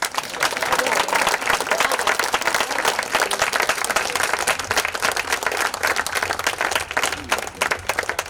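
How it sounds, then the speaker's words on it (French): A crowd claps and applauds continuously and loudly at a park reopening at the University of Mons, a dense patter of many hands sustained throughout. "donnez-vous une bonne applaudissement"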